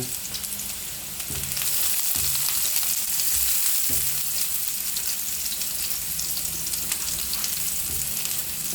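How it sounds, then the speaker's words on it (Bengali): Thinly sliced onion, a small amount, frying in hot oil in a pan, a steady broadband sizzle with a few low clunks of stirring, no voices. "খুবই অল্প পেঁয়াজের মধ্যে পেঁয়াজটা হালকা একটু ভাজা হইলেই পটলগুলো দিয়ে দিব"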